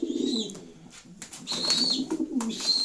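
Sport pigeons kept for breeding and racing coo in a loft, soft repeated throaty calls rising and falling close by, with brief rustling between them.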